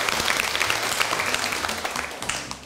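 Classroom applause for a group of students in a lower-secondary maths lesson, a short burst of steady clapping from many hands, close and even, fading slightly at the end.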